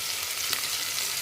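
Freshly pounded ginger and garlic fry in oil in a pan for a bitter gourd curry, giving a steady, soft, hissing sizzle throughout with no talking.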